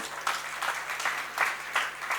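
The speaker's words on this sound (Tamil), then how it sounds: "கைத்தட்டி ஆண்டவருக்கு மகிமை செலுத்துங்க" A church congregation at an Assemblies of God service in Erwadi claps in praise, moderately loud broadband clapping swelling in uneven bursts over about two seconds, with a faint steady hum underneath.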